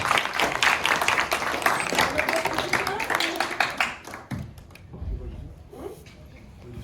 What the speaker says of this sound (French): Et vous pouvez vous applaudir très très fort.